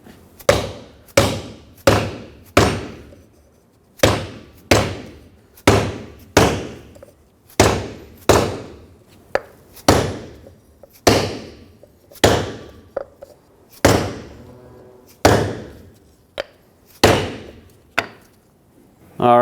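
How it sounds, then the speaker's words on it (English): A rubber mallet pounds a wood block to drive a rear backing shield seal on a 2011-2016 Ford F-350, about twenty loud, evenly spaced thuds ringing out close by with no talking. "I'm going to use a rubber mallet and drive this down all the way."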